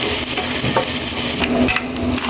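Tomatoes tipped into a hot frying pan for ginisang tahong, sautéed mussels, with a steady close sizzle and a few scraping stir strokes over the continuous frying.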